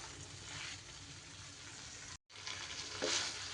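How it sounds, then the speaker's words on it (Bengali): Pre-fried okra sautéed with spice masala sizzles steadily in a pan, a continuous close frying hiss with light stirring, briefly cut off midway before resuming. "এইবার আমি ভেজে রাখা ঢ্যাঁড়সগুলো বা ভেন্ডিগুলো আমি দিয়ে দিলাম।"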